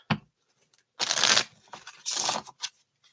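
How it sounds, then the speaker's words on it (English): Tarot cards riffle-shuffled in a few quick bursts, each crisp flurry separated by short pauses, close up with no talking. "Let's get some shuffles on this."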